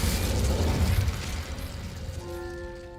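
A fire spell cast as Incendio in Hogwarts Legacy bursts out loudly at first, a roaring whoosh of flame that fades over a couple of seconds into a quieter ringing tail.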